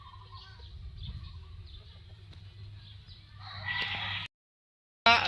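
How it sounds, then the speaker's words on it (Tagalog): A big, agitated chicken clucks and squawks close by over low background rumble, building to a louder burst of noise before a sudden cutoff and a sharp restart. "Guys, malaking manok na galit."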